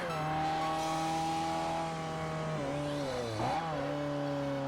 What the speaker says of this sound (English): Car sounds like it's sick.